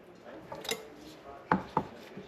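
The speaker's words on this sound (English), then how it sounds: "we're going to chop the roots off just like that" Green onions are chopped with a knife on a board: a few soft rubbing cuts early, then three sharp, distinct knife strikes spaced about a quarter second apart, close and fairly loud.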